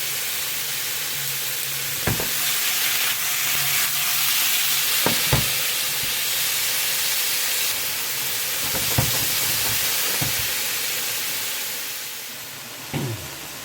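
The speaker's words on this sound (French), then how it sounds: "je marque ça en cuisson, poêle brûlante, viande assaisonnée et c'est parti" Seasoned meat, ready to be mixed with mushrooms, sears loudly in a scorching-hot pan, a steady dense sizzle with a few sharp clinks of a utensil scattered through it.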